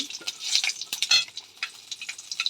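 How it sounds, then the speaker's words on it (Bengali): Whole cumin seeds fry in hot oil, giving a light, bright crackling sizzle with quick irregular pops, close and fairly soft, for a few seconds. "আর গোটা গোটা জিরে দিলাম"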